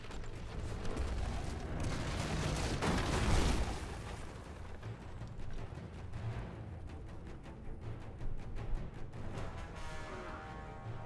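Heavy booming tank cannon blasts and rumbling explosions in a Knack game battle, with a dense, continuous roar that swells early and stays loud throughout.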